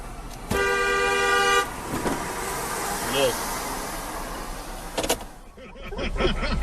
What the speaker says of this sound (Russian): Можешь ему как-то посигналить?